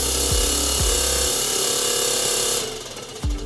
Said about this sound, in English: To clean the filter, we have pneumatic vibration